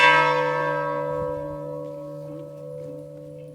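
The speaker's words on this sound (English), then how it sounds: "We toll the bell to proclaim to the citizens of Hillsborough County" A large bell tolls once at a graduation ceremony, a loud struck clang followed by a long, steady, ringing decay with no voices over it.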